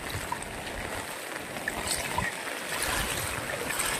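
Strong floodwater current rushes steadily past a flooded house, a continuous close roar of churning water with no talk.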